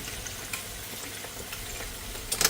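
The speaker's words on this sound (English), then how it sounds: "so we got our taters frying over here." Potatoes frying in a pan, a steady faint sizzle with soft scattered crackles and a brief clatter near the end, no one speaking.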